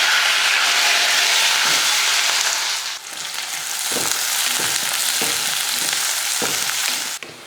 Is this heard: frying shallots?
yes